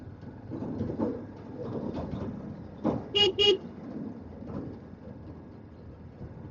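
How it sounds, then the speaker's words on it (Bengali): Vehicle horn toots twice in quick succession on a narrow, rough road through traffic near Palashi, heard over a motorbike's engine rumble and street noise. "হর্ন মারছি তো সাইডই দিচ্ছে না।"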